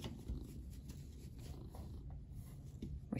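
A house cat purrs softly and steadily close by indoors, a low continuous rumble with faint breathing pulses and no talking over it.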